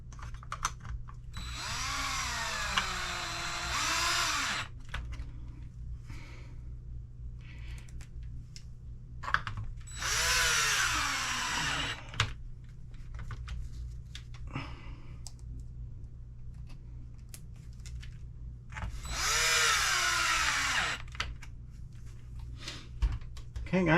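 A power drill drives 3x10 screws into an Arrma Limitless RC car build. Three separate whirring bursts stand out over a quiet background, with scattered clicks and handling noise between them.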